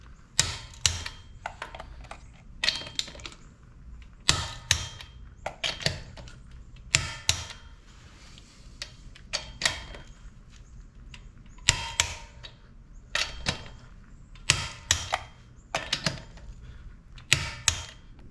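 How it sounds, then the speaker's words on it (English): Torque wrench clicking repeatedly while lug nuts are tightened on a 3rd gen Toyota Tacoma, sharp close clicks arriving in small clusters with short pauses, no talking. "I can do a full torque of the regular lug nuts."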